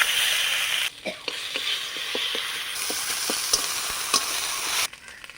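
Panch phoron, dried red chillies and bay leaves crackle and sizzle in hot oil left from frying fish, a close, dense hiss broken by scattered sharp pops and spoon taps, with no voices.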